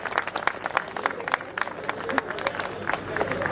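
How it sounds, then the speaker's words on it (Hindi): Audience at the Vijay Classic 2021 bodybuilding event clapping: steady scattered applause with sharp individual claps throughout, moderately loud, over crowd murmur and an announcer's voice. "एक बार जोर से तालियां तो बजा दो इनके लिए।"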